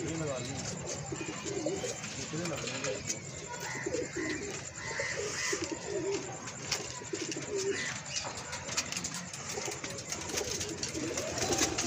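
Pigeons coo in soft, repeated rolling calls, with occasional wing flaps, while people talk nearby throughout.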